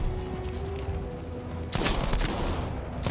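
A heavy burst of tank gunfire in Battlefield V breaks out partway through, loud and rumbling over steady background noise, following a stretch of quieter engine-like drone.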